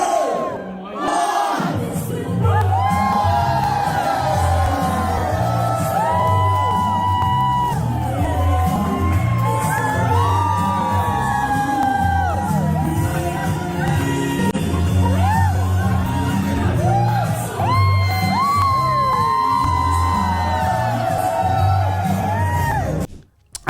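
Guests at a wedding celebration cheer, whoop and shout together in a loud, sustained crowd roar lasting over twenty seconds, with excited voices rising and falling over a steady low background beat.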